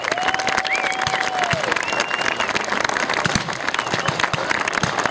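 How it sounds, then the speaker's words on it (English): A crowd of spectators at a WWII reenactment gives steady, continuous applause, with scattered cheering and a whistle-like tone rising over the clapping. "Could we have a round of applause for the reenactors,"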